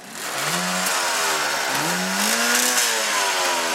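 A motorcycle engine with electronic ignition revs up repeatedly at a motorcycle rally, pitch rising with each throttle blip, loud and close, with its idle running between.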